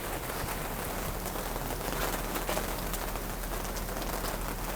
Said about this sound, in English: It's raining so hard suddenly.